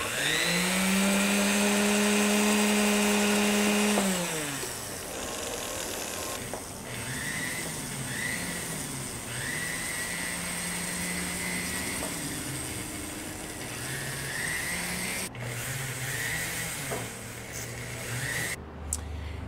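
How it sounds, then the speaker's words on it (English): A Foredom rotary tool fitted with a wire brush works over bonsai deadwood. A steady, loud motor whine winds down early on, then gives way to continuous close scrubbing and grinding with faint tonal squeals. "Switching to a wire brush on a Foredom."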